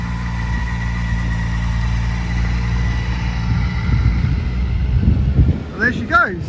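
A 2024 Kawasaki ZX-4RR motorcycle engine pulls away on a UK road, a steady low drone under wind buffeting that fades as the bike leaves, with rising whines near the end.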